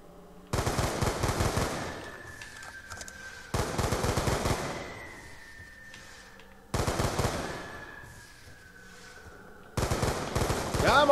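AN-94 assault rifle fire in Black Ops 2 Zombies comes in four loud, close bursts of rapid automatic shots, each followed by a fading ringing tail and a short quiet gap.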